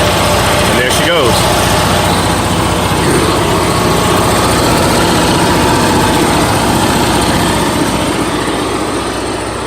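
A generator engine running off an external fuel tank, a loud steady close-up drone with a high buzzing tone that holds constant throughout.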